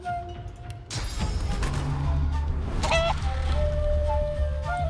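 A chicken clucking in the video game Divinity: Original Sin 2, a series of loud, close clucks and squawks over a low rumbling game background.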